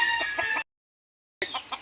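A backyard chicken clucks and crows nearby in two short bursts separated by a sudden gap of silence.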